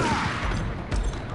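Gunfire in the video game Max Payne on PS4, a dense burst of shots aimed at a wall in an empty room, loud and close, with a sharper report near the end.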